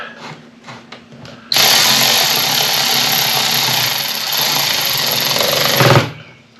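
Cordless ratchet tightening a hose clamp during a hydraulic cylinder seal job on a Kubota 4690 backhoe attachment: a few faint clicks, then one sustained loud whirring run of about four and a half seconds that stops abruptly.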